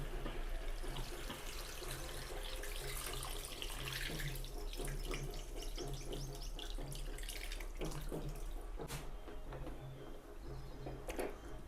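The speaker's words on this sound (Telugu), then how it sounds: "ఈ పులుసుని ఇందులో పోసుకుందాం" Tamarind broth is poured into a Telangana-style ravvu fish pulusu curry, making a steady, faint liquid splash and trickle that runs unbroken for several seconds with no talk.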